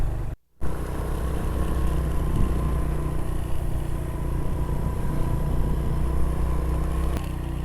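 A motorcycle rides a rough mountain track in Azad Kashmir, its engine droning steadily and close with heavy wind rush, cutting out briefly near the start before carrying on.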